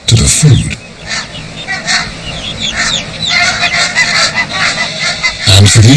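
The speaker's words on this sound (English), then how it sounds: "Barnacle geese don't bring food to their goslings." Barnacle geese honk repeatedly near freshwater pools, a noisy chorus of overlapping calls with a few louder close honks standing out.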